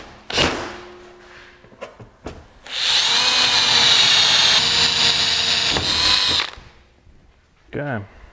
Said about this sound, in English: We'll drill holes into the deck lid, and we'll go ahead and rivet this guy down.